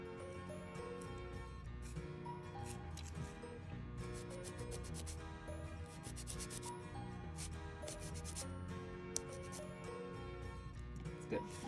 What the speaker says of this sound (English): You're filing real good.